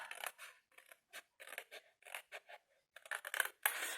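Scissors cut straight through cardboard in a quick series of short, crisp snips, close and fairly quiet, with small gaps between cuts and no voices.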